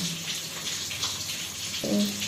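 Tap water runs over mustard flowers being washed in a kitchen, a steady close splashing stream with a brief clunk near the end.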